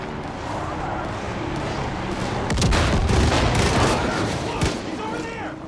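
Dense, loud gunfire bursts from a Far Cry 5 firefight, with rapid overlapping shots and booms that swell midway, while players shout over the shooting.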